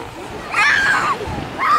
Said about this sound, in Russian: Ох, волны. Это волны.